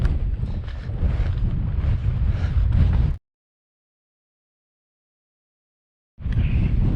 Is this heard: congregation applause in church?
no